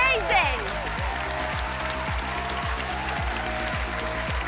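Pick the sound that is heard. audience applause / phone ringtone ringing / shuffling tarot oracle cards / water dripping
audience applause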